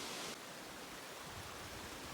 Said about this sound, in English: cross above a waterfall